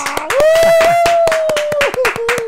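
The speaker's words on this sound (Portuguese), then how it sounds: "uma salva de palmas, Jobson Macena!" A studio audience claps for guest Jobson Macena on a live TV show, a burst of separate hand claps heard under a sustained sung or held voice tone.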